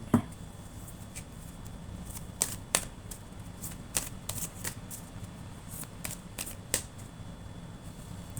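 Tarot cards being handled and shuffled, a quick series of crisp riffling bursts and soft slaps spread irregularly across a quiet room, close by with no talking.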